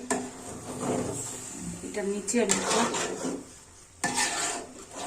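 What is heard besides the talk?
stirring khichuri in a pot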